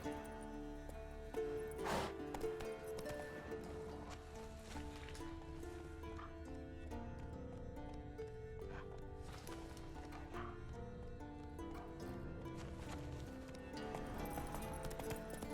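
Faint rhythmic hoof clops from a horse trotting in the video game The Witcher 3: Wild Hunt, set against layered music and ambient sound, continuing steadily throughout.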